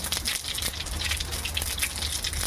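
Whole cumin seeds and a dried chilli crackle and hiss in hot mustard oil in a kadai. The sizzle is close and continuous, with dense sputtering pops and no talk.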